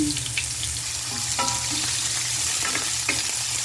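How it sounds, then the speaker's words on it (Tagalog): Chopped onion dropped into hot cooking oil seasoned with black pepper, giving a steady close sizzle with a few crackling pops and light stirring scrapes throughout. "Ngayon, ilalagay na natin ang sibuyas."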